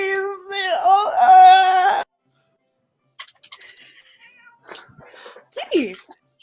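A cat gives one drawn-out, close meow lasting about two seconds, followed by a pause and then quiet talking voices.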